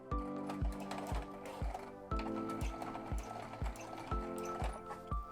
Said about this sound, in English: My zipper foot is in position and I am going to take my time and sew right over my basting stitches.